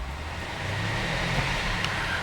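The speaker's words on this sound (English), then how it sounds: "Let me rev the engine." A 2009 BMW X5 4.8i AWD engine revving, a moderate low rumble that rises briefly in pitch and falls back toward idle, with steady background noise and no speech.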